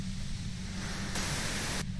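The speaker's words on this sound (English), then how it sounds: "If you've got something really important to say, you can do it through the white noise." Radio-style white noise static in the Disco Elysium video game, a steady, fairly quiet hiss with a low hum underneath that brightens partway through.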